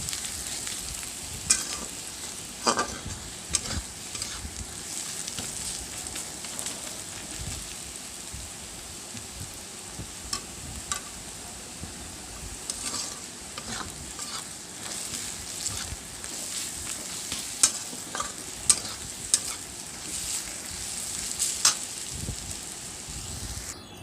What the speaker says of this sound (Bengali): পেঁয়াজগুলো ভাজা ভাজা হচ্ছে তখন